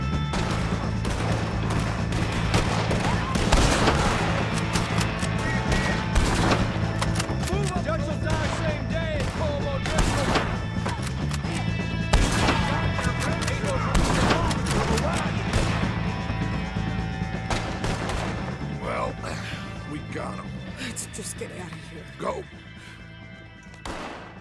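Gunfire rings out while Driscoll gang members are shot in Red Dead Redemption 2, with sharp shots, bursts and heavy thuds scattered through the scene and frequent talk over them.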